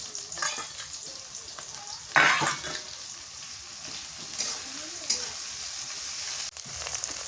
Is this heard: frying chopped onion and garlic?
yes